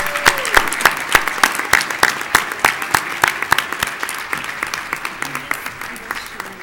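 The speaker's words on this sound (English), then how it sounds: "Please give them a big round of applause." An audience claps at a university business meeting, with rhythmic, fairly close clapping that starts loud and tapers gradually as it continues for several seconds, with a brief voice at the start.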